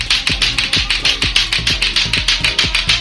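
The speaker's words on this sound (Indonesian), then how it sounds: "itu bunyi lato-lato." Lato-lato clacker toy balls knock together in a fast, steady rhythm, loud and close, with sharp repeated clacks and no talking.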